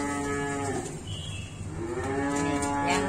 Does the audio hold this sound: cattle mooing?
yes